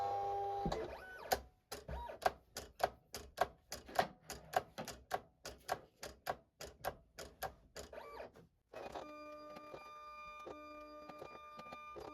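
A Silhouette Cameo 4 cutting machine cuts a wallet pattern with a rapid series of sharp mechanical clacks and whirs, then a brief pause before a steadier motor hum with a repeating tone, with no talking.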